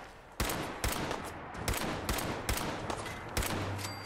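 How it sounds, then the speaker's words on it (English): Enemy gunfire in Fallout 4 comes as a series of sharp shots spaced about half a second apart, moderately loud over a noisy battle background. "That's who's shooting me."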